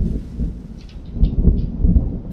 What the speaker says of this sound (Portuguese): Trovoada.